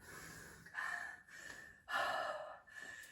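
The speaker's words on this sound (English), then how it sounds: "I'm getting sweaty. You can hear me breathing." Heavy breathing during a bodyweight exercise workout, with several close, breathy inhales and exhales in an uneven rhythm, fairly faint and with no speech.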